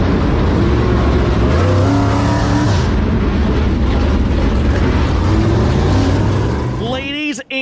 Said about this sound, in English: Heat race number 1 is underway.